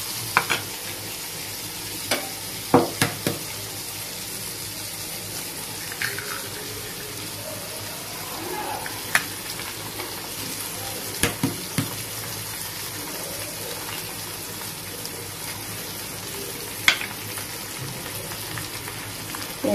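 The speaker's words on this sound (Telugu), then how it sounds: "ఎగ్ వేసాక ఇలా కలపాలండి." A spoon stirs egg through a capsicum curry frying in a pan, with scattered scrapes and clicks over a soft, steady sizzle and no talking.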